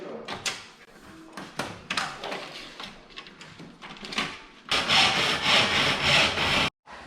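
A hand saw cuts wood held in a miter box: rhythmic back-and-forth rasping strokes, close and fairly loud, ending in a sustained burst of faster sawing before stopping abruptly.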